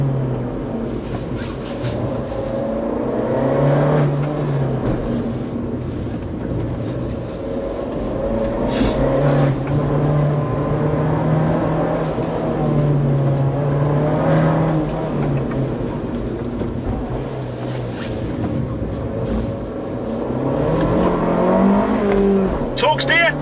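An Abarth 695 Anniversario driven on a race track, its engine droning and rising through gears with revs climbing and easing, someone talking over the cabin noise throughout.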